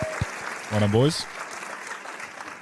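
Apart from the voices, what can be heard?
audience applause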